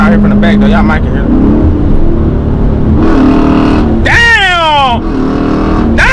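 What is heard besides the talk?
truck engine and exhaust heard from the back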